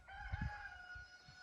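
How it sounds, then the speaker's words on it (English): A rooster crows in a small mountain village near Luzhou, a sustained call at moderate distance, with faint low knocks and thumps beneath. "And there's a bunch of little chickens up there."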